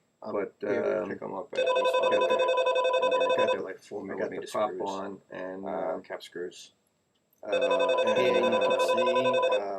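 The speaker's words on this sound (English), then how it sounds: "excuse that phone" A telephone ringing in a workshop, two bursts of electronic ringtone that overlap a man's speech and then sound alone.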